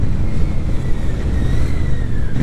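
Royal Enfield Super Meteor 650 motorcycle engine while riding, a steady loud rumble with wind noise and a slowly rising whine, heard close from the bike itself with no talk.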